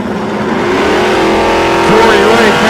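A nostalgia drag race car roars through a pass at an Australian drag strip, its engine a loud, steady, rising drone throughout, with a commentator talking over it.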